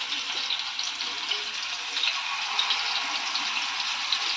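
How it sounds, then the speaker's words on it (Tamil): Marinated kaanangathai fish deep-frying in hot oil gives a steady, dense hiss that stays even throughout without pauses, close and moderately loud, with no voices. "இப்போ வந்து எண்ணெய் காய வச்சுட்டோம். இப்போ வந்து நம்ம பொரித்து எடுத்துக்கலாம்."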